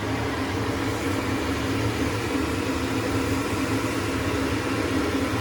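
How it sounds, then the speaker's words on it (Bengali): Salted gravy for chicken kasa boils steadily in a pan, a dense, even bubbling hiss that holds constant with no talking. "জিনিসটা ফুটছে।"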